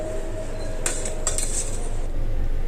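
Elephant foot yam (suvarna gadde) being stirred with pepper and turmeric inside a pressure cooker, giving a few close metallic scrapes and clinks against the pot over a steady low background, with no talking.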